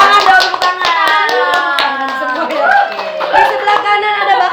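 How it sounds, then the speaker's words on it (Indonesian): A small studio audience clapping in a local TV talk show studio, a steady patter of hand claps running under a presenter's voice. "bisa diperkenalkan, tepuk tangan dong, tepuk tangan"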